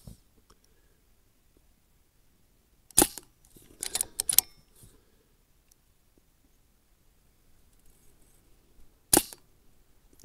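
Two sharp, loud cracks from a Brocock Ranger XR .22 sub-compact micro carbine air rifle, one near the start and one near the end, with faint handling clicks and rustles between them in an otherwise quiet setting.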